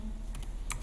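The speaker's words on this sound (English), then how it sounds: "I just want to type it here" Several quick keystrokes on a computer keyboard, a few separate clicks spread across under a second, heard close and alone without speech.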